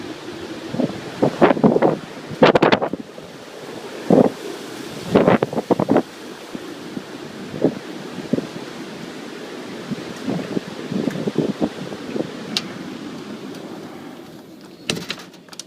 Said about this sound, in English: You might be able to hear we're getting 70-mile-an-hour wind gusts.